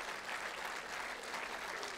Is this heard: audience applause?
yes